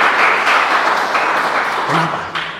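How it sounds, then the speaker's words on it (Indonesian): A church congregation at an evangelistic revival service cheers and applauds for Jesus, a dense, loud wash of clapping and shouting that swells and fades over a couple of seconds. "Berikan sorak-sorai buat Yesus."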